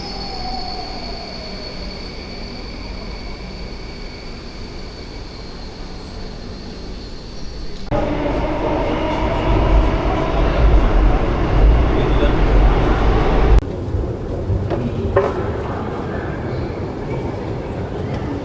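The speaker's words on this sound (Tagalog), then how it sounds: "Just waiting for the train to arrive." A train pulls into a Singapore rail station with a steady rumble that swells louder midway, wheels grinding and squealing along the rails, then a sudden drop as it settles; station announcements carry faintly beneath.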